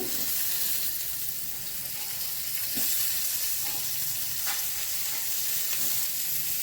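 Chopped tomato sizzling in a pan of oil while cooking a cauliflower and egg curry, a steady loud hiss with occasional soft stirring clicks.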